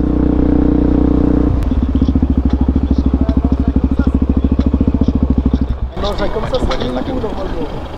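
A supermoto motorcycle pulling a wheelie on a Paris street gives a loud, close engine note with rapid steady pulsing, then its tone shifts as the revs change.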